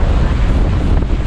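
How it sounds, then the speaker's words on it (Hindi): Strong, cold wind on a mountain trek near Mudh Village roars loudly and continuously into the microphone, a dense rushing buffet with no voices. "और साथ ही साथ हवा भी बहुत तेज़ चल रही है।"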